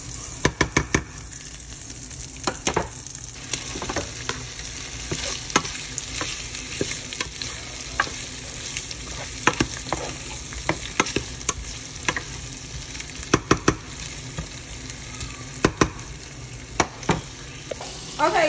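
Sausages frying in butter and oil in a pan, giving a constant close sizzle and crackle dotted with sharp pops and utensil clicks throughout, with no talking.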